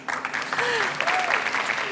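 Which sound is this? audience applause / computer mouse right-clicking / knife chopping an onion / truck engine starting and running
audience applause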